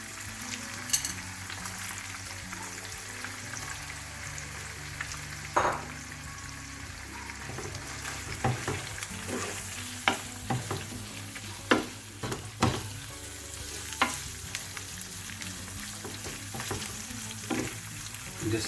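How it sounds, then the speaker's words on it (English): Prawns frying in a hot pan for a quick rice and seafood dish, a steady close sizzle with occasional stirring scrapes and clinks, no voices. "now I'm gonna put some prawns in there"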